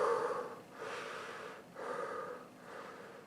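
Breathing through a thick cotton Soviet PTM-1 fallout mask, heard as about four close, rasping breaths in a slow, regular rhythm, muffled and airy, with no talking over them.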